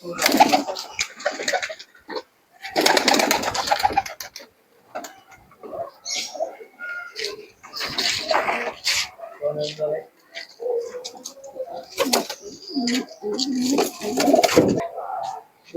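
Pigeons being let outside give soft, low coos in short bursts, close by, mixed with frequent talking voices and some splashing or rustling.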